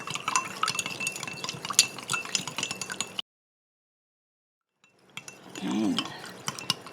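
Magnesium flakes stirred into water with a utensil, giving light clinks and scraping against the container in two bursts separated by a stretch of silence.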